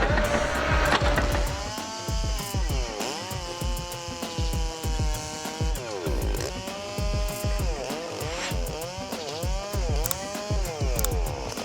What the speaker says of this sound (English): the Dipper Fox stump grinder with 210 horsepower engine can remove 2 to 3 stumps per minute.